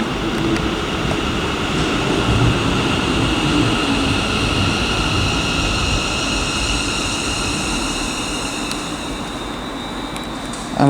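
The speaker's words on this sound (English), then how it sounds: "arriving now is going to be the 1002 ScotRail service from Glasgow Central to Wemyss Bay" ScotRail class 380 electric train 380112 arriving at Paisley Gilmour Street station on a service to Wemyss Bay, a loud, steady rumble and rail roar that fills the whole stretch with no break.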